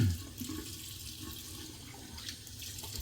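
A bathroom tap runs steadily for a cold-water face splash after a straight-razor shave, a continuous close rush of water with no voices.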